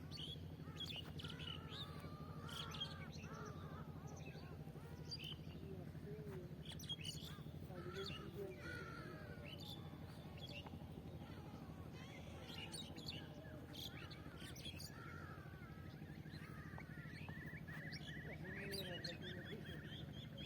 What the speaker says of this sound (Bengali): কিন্তু পাখির ডাক হায়নার মতো হচ্ছে